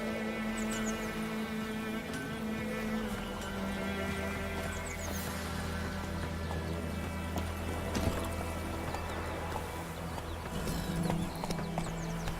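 A horse galloping in Witcher 3, steady rhythmic hoofbeats under a low sustained hum of game music, moderately loud and continuous.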